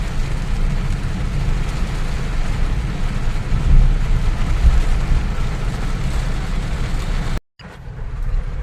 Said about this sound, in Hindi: खतरनाक बारिश है भाई